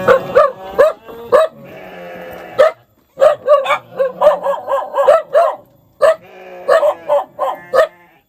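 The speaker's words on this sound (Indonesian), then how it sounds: "Tadi ini, Pak, gonggong terus." Guard dog barking at a treehouse home in West Java, a rapid series of loud, close barks in bursts with brief pauses, interspersed with higher yelping cries.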